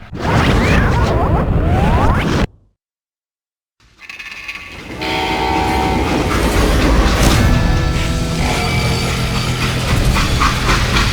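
A freight train in the Western game Call of Juarez Gunslinger rumbles and clanks with steady mechanical rattling, loud and close, broken by a short silent gap before the running noise returns and continues.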